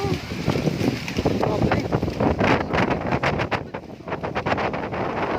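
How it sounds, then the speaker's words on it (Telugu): Strong gusting wind during a rainstorm in Hyderabad roars and thumps against the microphone in uneven bursts, loud and close throughout. "గాలి వస్తూనే ఉంది"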